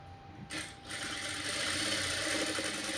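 Sewing machine stitching pieces of cloth together to join a cross-piece seam, running steadily and closely after a brief start, with no talking.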